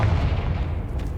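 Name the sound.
Confringo fire spell exploding, Hogwarts Legacy video game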